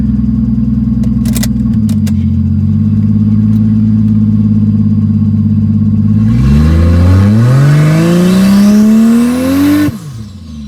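A car engine running a 50-shot of nitrous holds a loud, steady drone, then revs up hard in a long rising climb before cutting off abruptly, close and alone.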